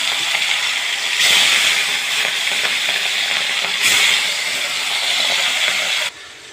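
Rohu fish seasoned with turmeric and salt fries in hot oil in a wok, giving a loud, steady sizzling hiss with two brief surges before it drops off sharply near the end.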